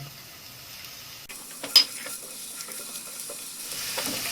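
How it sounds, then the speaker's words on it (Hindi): Finely chopped green garlic fries in hot oil with a soft, steady sizzle, starting quiet and growing busier after being dropped in, with a brief clatter of stirring partway through. "इसमें 1 टेबलस्पून ये हरा वाला हमने लहसुन लिया है, बारीक काट लिया, ये डालेंगे और इसको 1-2 मिनट भूनेंगे।"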